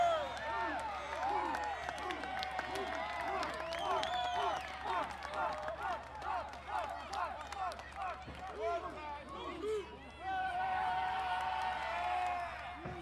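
Wrestling crowd at a tag team match cheering and clapping, a steady moderately distant roar with scattered whoops that swells near the end, heard beneath a commentator's talk.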